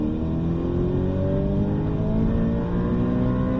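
Car accelerating hard along the straight of Circuit de Bresse, a steady loud engine drone with rising harmonics as revs climb, close and continuous with no talk.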